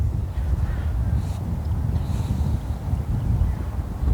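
Strong wind buffets the microphone on a golf practice tee, a loud rumbling low roar with gusty swells and no voices.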